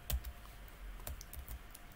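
Soft keystrokes tap on a computer keyboard in an irregular run of quick clicks, faint and close, with no talking.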